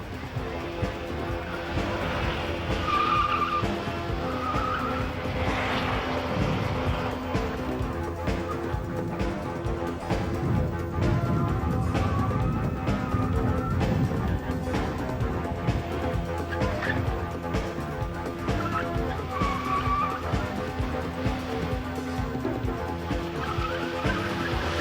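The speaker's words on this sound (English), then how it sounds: "Next up, in car 17, the Plymouth Laser with rally champion Alan Scheidler at the wheel" Plymouth Laser rally car driven fast through a timed run during the 1989 One Lap of America, engine revving with repeated tire squeals and skids rising and fading at moderate distance.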